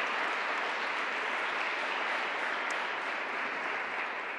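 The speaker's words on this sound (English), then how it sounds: "actually give him a round of applause because he does such amazing work." Sustained audience applause at a COP26 C40 showcase event in November 2021, a dense, even wash of many hands clapping that holds steady and loud from start to finish with no speech over it.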